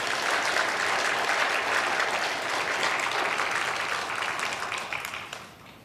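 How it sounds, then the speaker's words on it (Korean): A church congregation at a Sunday worship service applauds the praise team, a dense, sustained round of clapping from many hands that fades out over the last second. "박수하겠습니다."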